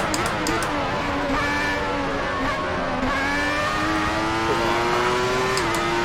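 A 1994 Formula 1 car in the Assetto Corsa racing game, a continuous loud high-pitched engine wail rising and falling through gear changes during an overtake, with faint tyre squeal.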